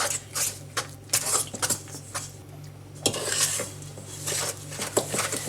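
Banana bread batter being stirred by hand in a bowl, with a spoon scraping and clinking against the sides in irregular bursts, close and fairly loud with quieter pauses between strokes.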